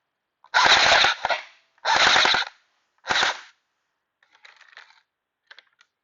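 An electric airsoft gun with a version 3 gearbox and a newly replaced motor mount fires on full auto: three loud, close bursts in quick succession, followed by a few faint, brief rattles.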